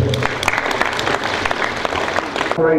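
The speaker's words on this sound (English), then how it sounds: "Once again, a round of applause for him." Audience applauding at a 2018 police security summit, steady dense clapping from a large crowd filling the whole stretch before breaking off abruptly near the end.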